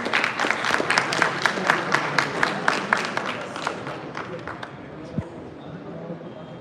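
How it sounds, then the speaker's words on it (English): Audience at a college engineering alumni gathering breaks into sustained clapping for a speaker, a dense fading round of applause heard up close. "A huge round of applause, please."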